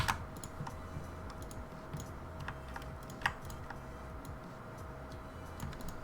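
Keys on a computer keyboard are struck in sparse, irregular clicks against a quiet room hum, with a slightly sharper tap near the middle.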